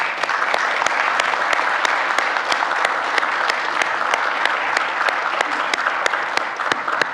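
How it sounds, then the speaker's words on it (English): Audience applause for fall marching band members at a school board meeting, steady dense clapping with sharp individual claps standing out, continuous and fairly loud throughout. "we can give them a round of applause"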